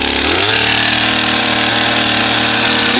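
A chainsaw started on half choke with the chain brake off revs up under throttle, a loud, steady engine drone that climbs in pitch early and then holds, running alone without talk.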